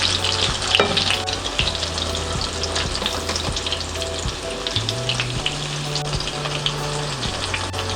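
A cabbage omelette (tortang repolyo) fries in a pan with a loud, steady sizzle and crackle throughout, while a low electrical hum sits underneath and no one speaks.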